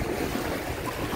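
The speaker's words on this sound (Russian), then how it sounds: "Волны. Даже звук приятен от волн." Sea waves wash steadily onto a beach at Dzhemete near Anapa on the Black Sea in late June, a loud, continuous broadband rush with no pauses and no talk.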